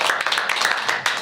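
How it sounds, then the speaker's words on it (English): An audience at an academic presentation gives a brief burst of applause, a short spell of scattered clapping. "let's give him a round of applause"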